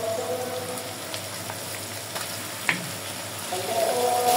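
Goat meat frying in oil with onions, salt and garam masala, a steady close sizzle with a single sharp utensil knock and the frying swelling louder near the end.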